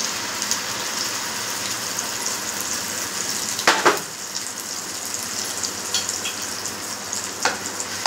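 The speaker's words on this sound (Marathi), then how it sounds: "अगदी थोडंसं तेल टाकलेलं, त्याच्यामध्ये हा मसाला टाकून देते।" Ground masala paste frying in a small amount of oil for alu vadi, a continuous close crackling sizzle with occasional sharp spatter bursts and stirring scrapes, no voices over it.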